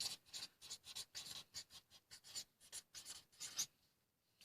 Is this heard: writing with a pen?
yes